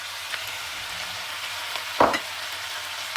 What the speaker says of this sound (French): Et je vais les faire revenir avec les oignons